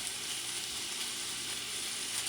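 Ground beef frying in a dry pan with no oil, releasing its own fat; a steady, fairly quiet sizzle with an even hiss and no voices.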